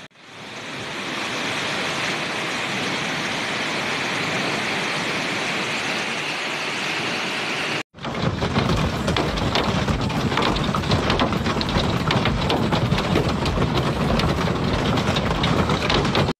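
Hailstorm in Spain and France, with ice balls falling from the sky as a dense, continuous roar of impacts that grows rougher and louder after a brief cut midway.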